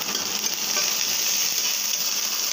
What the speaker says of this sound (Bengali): তাই আমি শুকনো মরিচটা আগে ভেজে নিই